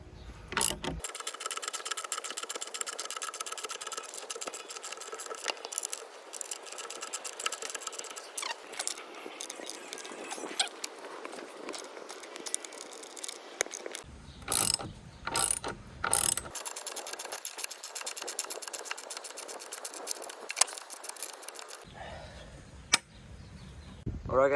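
A hand ratchet clicks rapidly and repeatedly as a lag bolt is tightened into a wooden fort beam outdoors, a long run of close, sharp ratcheting strokes with brief pauses, and a person speaks at moments.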